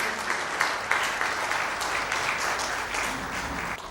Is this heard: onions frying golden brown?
no